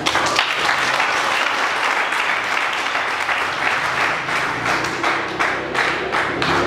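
A crowd of young people in the Democratic Republic of the Congo applauds a minister at a public gathering, sustained close clapping from many hands with scattered sharper individual claps and no speech over it.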